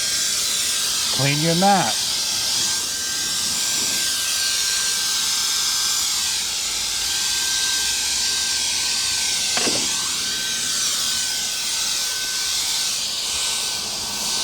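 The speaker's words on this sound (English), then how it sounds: "Blow up, suck out, clean the keyboards, anywhere that you need a little mini blower." A Besrun electric air duster spinning at 110,000 RPM gives a steady, loud high-pitched blowing hiss that runs through the whole stretch, with brief speech over it near the start.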